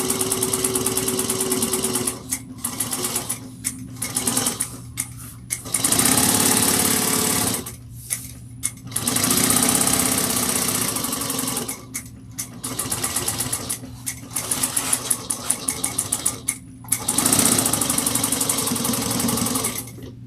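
A sewing machine basting layers of fabric together, running loud and close in long stitching bursts broken by short pauses, with no talking.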